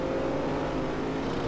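Fast cars rush past on a road in an Upin & Ipin driving game, making a steady, close engine drone with a whoosh of traffic. There is no talking.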